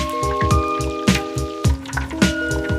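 A Cajun turkey deep-frying in hot oil in a backyard fryer, the oil bubbling and popping in a steady, rhythmic churn of wet crackles with a few sustained tones underneath, close and fairly loud.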